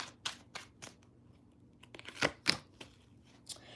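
Soft, sporadic flicks and riffles of tarot cards being shuffled at close range, a few sharper snaps near the middle, otherwise quiet.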